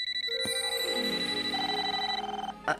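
An electronic ringing tone rises in a series of rapid pulsing beeps, loud and close, cutting off abruptly before a short clatter.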